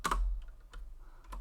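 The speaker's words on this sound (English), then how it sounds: "Go ahead and type that in." A few quick keystrokes on a computer keyboard, clicking briefly in a quiet room with no voices.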